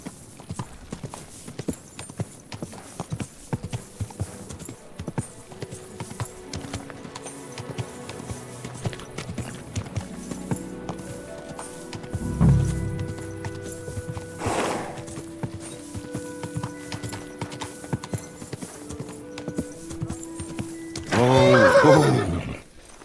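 Steady clip-clop of horse hooves trotting in the game Kingdom Come: Deliverance II, then a loud whinny near the end, with faint music in the background.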